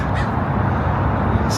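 Crows caw loudly outdoors in Portland near a city stadium site, with harsh calls standing out over a steady wash of wind or traffic noise.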